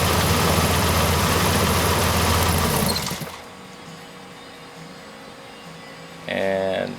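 A car engine fires up with a loud, dense roar that cuts off after about three seconds, leaving a quiet steady idle hum, followed by a brief harsher burst near the end.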